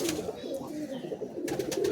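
A pair of dobaj pigeons at a home loft give low, rolling coos that run on steadily, close and moderately quiet, with brief faint voices and handling noise in the background.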